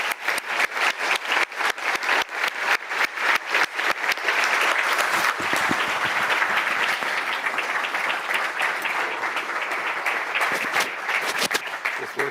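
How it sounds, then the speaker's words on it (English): A lecture audience applauds the speaker Ed Catmull, with sharp individual claps at first that build into a full, continuous round of applause lasting several seconds before thinning out. "Please join me with a round of applause for our speaker, Ed Catmull."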